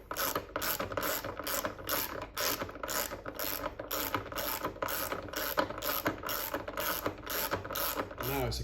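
A ratchet tightens the original bolts back into a Ducati Streetfighter V4S fuel tank. Fast, continuous clicking runs loud and close in a steady rhythm throughout.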